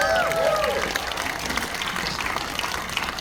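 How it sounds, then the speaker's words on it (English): Steady applause from a film festival panel audience, many hands clapping together in a dense, sustained patter, with a few voices audible at the start. "Please, round of applause, she's in the room."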